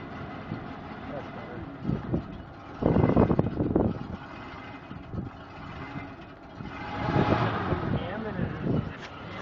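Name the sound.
5-liter truck engine idling after cold start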